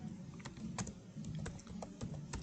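Keystrokes on a computer keyboard while a git command is typed, a scattered series of soft clicks at an irregular rhythm over a steady low background hum.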